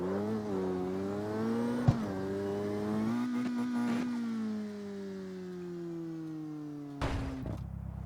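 Car engine in a racing video game held at a steady high drone with gliding pitch shifts as it revs and changes gear, continuous and fairly loud, with a brief sharp knock partway through and no voices.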